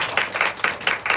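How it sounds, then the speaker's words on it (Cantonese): An audience claps at a team training and testimonial meeting: a brief, steady patter of applause from many hands, close and fairly loud, with no talk over it. "再俾啲掌聲啊"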